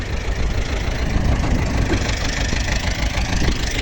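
A T-25 tractor engine running steadily during potato planting, a loud continuous diesel rumble with no change in pace throughout.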